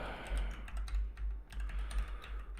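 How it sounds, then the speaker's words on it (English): Rapid typing on a computer keyboard, a dense run of light, close key clicks over a low steady hum, no voices. "Let me just type it out quickly."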